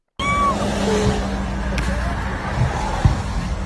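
A white SUV on a street rolls past with a steady low engine and road hum, mixed with background traffic noise and a few faint voices.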